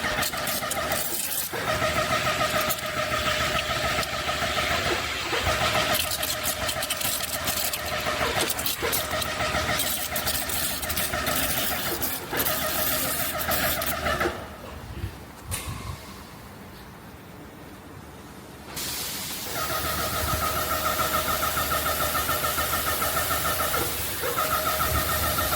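An EA20HP engine runs loudly and steadily during a water test with a 617 spray tip, a constant mechanical drone with a tonal whine that drops to a quieter idle midway, then returns to full power.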